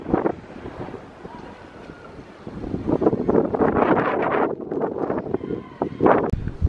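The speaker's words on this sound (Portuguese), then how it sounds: "Ó o vento que tá aqui, vocês conseguem ver, ó." Strong wind blows outdoors, buffeting the microphone in continuous loud gusty rumbles that swell and ease throughout.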